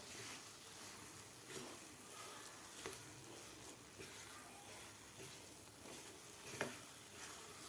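A thickened sesame and jaggery mixture is stirred in a pan, producing a faint, continuous sizzle and scraping with occasional soft knocks of the spoon against the pan.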